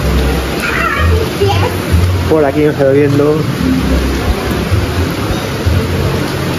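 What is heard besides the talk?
rain and thunder at Lake Ohrid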